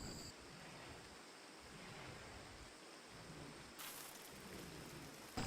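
Heavy downpour of rain in the tropical setting of Rimworld, a steady broadband hiss that holds throughout, with a brief brighter surge partway through and a low rumble beneath.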